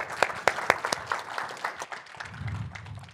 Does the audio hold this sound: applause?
yes